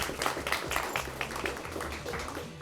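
An audience at a state quiz bowl tournament applauds its MVP with a dense, steady patter of clapping that fades slightly toward the end, moderately close and without a pause.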